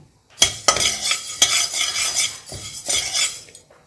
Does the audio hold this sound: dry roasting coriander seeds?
yes